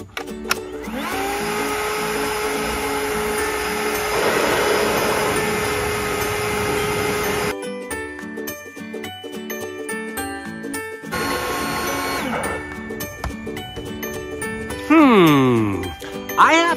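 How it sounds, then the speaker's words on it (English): A Ryobi 40V 730 CFM battery leaf blower runs in turbo mode, giving a loud, steady whirring roar with a tonal whine that cuts off briefly, restarts, then shifts as a voice speaks over it. "I've got a blower in turbo mode. It's putting out maximum air."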